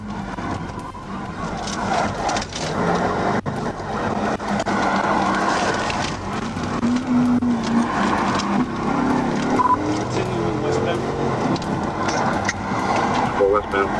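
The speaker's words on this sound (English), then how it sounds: "Shortly after, Sarrett spotted the same vehicle speeding at 98 miles per hour in a 70 miles per hour zone and initiated a pursuit." Car racing at high speed during a police pursuit on a 70 mph highway, with steady engine and road roar throughout and radio chatter and voices talking over it.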